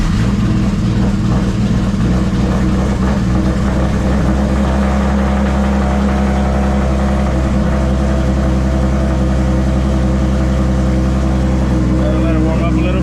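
A MKIV Toyota Supra, tuned past 1000 wheel horsepower and fitted with a fresh T56 manual transmission swap, idles steadily while warming up, a loud, close, continuous engine drone with a slight rise near the end.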